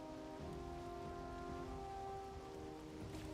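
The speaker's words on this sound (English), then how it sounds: "Raining and dark." Rain falls steadily in the dark in the video game Valheim, a soft continuous patter under sustained low tonal game ambience, with no talking.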